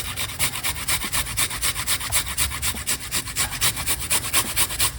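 Fresh ginger is grated in quick, even back-and-forth strokes, each stroke a loud, close rasping scrape in a steady rhythm with no talking.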